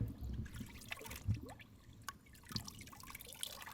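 Water and black powder residue dripping out of a fouled .45 ACP handgun, a few irregular close drips and trickles over a quiet background with no talking.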